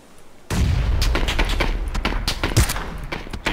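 Gunfire in the video game PUBG on the Miramar desert map breaks in after a half second of quiet, a loud, dense stretch of booming shots and pops that continues to the end, with no talking.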